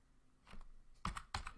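A few quick, soft keystrokes tap on a computer keyboard at a Linux command line, ending with two sharper clicks, close by in a quiet room.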